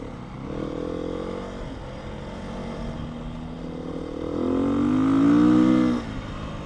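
A 2019 Beta 125 RR-S two-stroke dirt bike being ridden: a buzzy, close engine drone that climbs into a louder revving surge before easing off.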